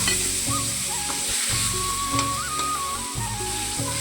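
Fish fries in a little oil in a kadai wok, a loud, steady close-up sizzle with occasional stirring knocks and no talking.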